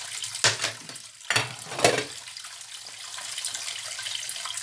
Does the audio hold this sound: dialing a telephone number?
no